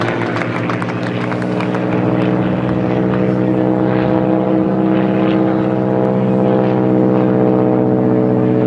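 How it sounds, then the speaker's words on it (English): A propeller airplane from Howell Airport makes a low pass at an autumn outdoor veterans' event, its engine droning loud and steady with layered harmonics throughout, and a brief patter of clapping at the start. "here comes our pilot from the Howell Airport, Mr. Ron Staley."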